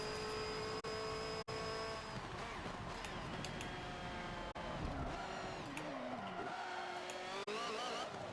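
A race car in a Le Mans racing video game accelerates down the Mulsanne straight and shifts up into fifth gear. The engine whine climbs, cuts briefly at each shift, then rises again, with other cars' engines droning behind it.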